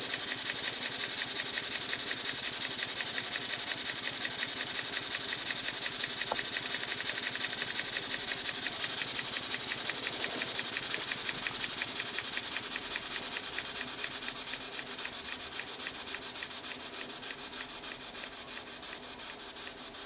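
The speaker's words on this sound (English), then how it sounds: "Makes all the right steam engine noises." A small model steam engine running slowly chuffs steadily with a fine, rapid ticking over constant hissing, running evenly throughout with no talk.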